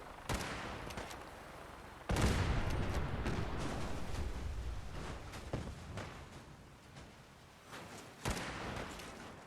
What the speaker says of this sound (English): they're shooting something down here